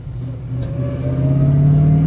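A 1969 Chevrolet Camaro Z28 engine revs steadily upward in a deep, rising drone, loud and close, with a whiny, supercharger-like mechanical tone building over the roar.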